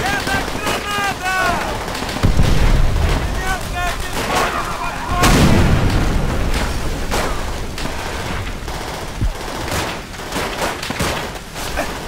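A grenade bursts amid heavy rifle and machine-gun fire during a World War II battle in Call of Duty: World at War, with two loud booms cutting through the constant crackle of shots and shouting voices early on.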